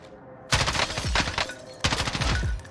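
Bursts of automatic gunfire from an M4A1 in Call of Duty Warzone, two loud rapid volleys separated by a short pause, close and sharp with no talk.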